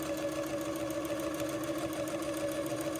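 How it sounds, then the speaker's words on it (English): A sewing machine stitches a French seam in Swiss batiste, a steady mechanical hum with rapid even needle clatter, close and continuous without talk. "so I can make sure that I'm encompassing my first 1/16 of an inch as I sew"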